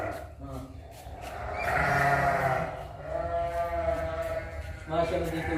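Sheep and goats of many breeds bleat close by on a farm, several loud drawn-out calls following one another, with someone talking over and between them.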